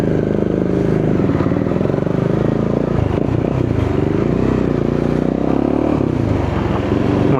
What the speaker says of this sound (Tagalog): Yan ang ating Bajaj Dominar 400 budget meal na big bike.